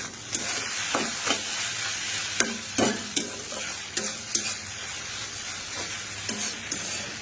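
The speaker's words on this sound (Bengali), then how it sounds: "ম্যাগি ভাজা করছে" Maggi noodles stir-fried in a pan sizzle steadily while a utensil scrapes and stirs in irregular clacks and bursts, close and clear with no voices.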